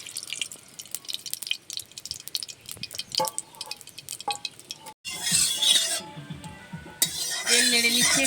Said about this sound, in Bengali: তেল নেড়ে নিচ্ছি একটু